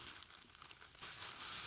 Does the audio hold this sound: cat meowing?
no